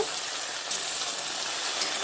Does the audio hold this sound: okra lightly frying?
yes